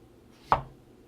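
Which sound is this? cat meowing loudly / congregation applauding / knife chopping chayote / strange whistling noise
knife chopping chayote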